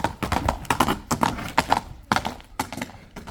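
Horse hooves clip-clop in quick uneven clusters of sharp knocks, close and fairly loud, with brief pauses between bursts and no talk over them.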